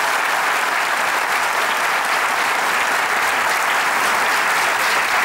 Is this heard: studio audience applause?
yes